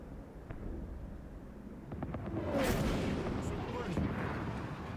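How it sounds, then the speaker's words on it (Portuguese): Rocket fire and explosions in the Cyberpunk 2077 Phantom Liberty video game, a sustained roaring blast that swells midway, with scattered sharp cracks over a dense low rumble, while players exclaim in the background. "estão atirando foguete"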